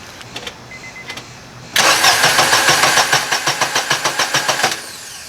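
2000 Honda Insight IMA hybrid engine cranking without catching after a fuel cutoff relay bypass: a loud, steady run of rapid rhythmic starter chugs lasting about three seconds, then stopping, with a few faint clicks before.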